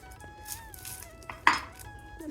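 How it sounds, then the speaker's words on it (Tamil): A knife cuts small onions on a home kitchen board for fish curry, giving a few soft taps and one sharp, close knock midway, over quiet background tones. "நான் வந்து சின்ன வெங்காயம் வந்து கட் பண்ணிகிட்ருக்கேன்"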